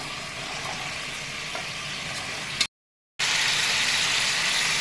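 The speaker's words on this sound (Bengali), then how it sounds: "এবার আমি আলুগুলো দিয়ে দিচ্ছি।" Raw potatoes dropped into hot oil with yogurt in a pan for a vegetarian green banana kofta dalna, sizzling steadily and loudly, then cutting out briefly before the frying hiss returns stronger.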